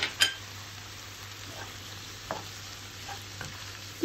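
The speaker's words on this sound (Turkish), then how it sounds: "Baharatları karışıncaya kadar güzelce şöyle kavuruyoruz." Onions with salt, red pepper, thyme and mint sautéing in a pan, a soft steady sizzle with a few light utensil scrapes and clinks, close and quiet, with no talking.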